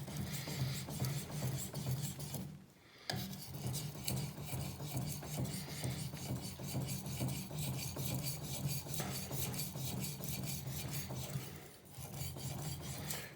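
A Shirogami steel knife rasps steadily against a Japanese natural whetstone in long, repeated strokes with a continuous gritty scrape, pausing briefly twice, close and fairly quiet with no talking.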